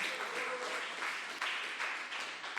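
Congregation at a church service applauds together, a soft, steady wash of clapping heard from a distance for a couple of seconds.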